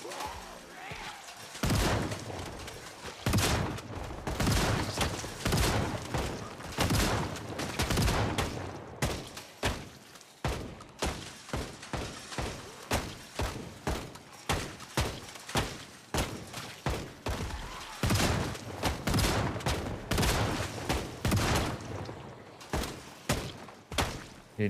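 Rapid gunfire in the zombie survival game Project Zomboid, dense bursts of sharp loud shots in quick irregular volleys, later settling into a steadier string of separate cracks.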